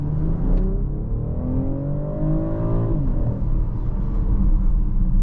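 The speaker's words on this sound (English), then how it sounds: "we're gonna do a full acceleration" A 2024 BMW X6 40i engine under full throttle, revs climbing steadily in a loud, continuous roar heard from inside the vehicle, dipping briefly at a gear change.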